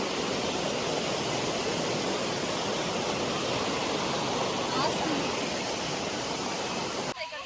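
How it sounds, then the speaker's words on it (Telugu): A small waterfall in Chikkamagaluru, Karnataka, after rain, splashes steadily, a dense continuous rush of falling water heard close and alone, with a brief shift in the sound right at the end. "చిన్న వాటర్ ఫాల్ ఉంది,"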